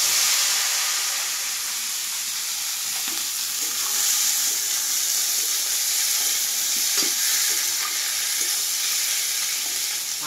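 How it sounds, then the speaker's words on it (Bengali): Drumstick flowers frying in a pan give a steady, close sizzle and hiss throughout, with faint stirring knocks scattered through it and no talking. "এবারে আমি এটাকে ভাজি।"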